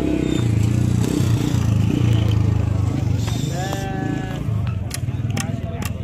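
Sheep bleating at a livestock market in Dana, northern Syria, with a few short bleats rising over loud background chatter, clatter and scraping.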